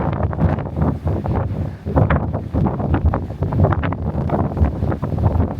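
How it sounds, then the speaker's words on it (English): Strong wind buffets the open deck of the Sapphire Princess cruise ship on a sea day, a steady loud roar of gusts hitting the microphone throughout, with no voices. "Oh yeah, wind's picking up."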